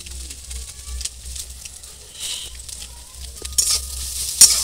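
A spiced fish filling with garam masala sautés in a pan, with a soft sizzle and repeated scraping stirs. A low rhythmic thump runs underneath, and a few sharper clicks come near the end.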